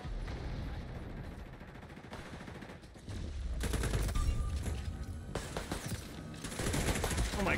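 Shotgun blasts from a double-barrel in the shooter game XDefiant, set among dense rapid gunfire and bursts that get louder partway through, with a voice talking faintly underneath.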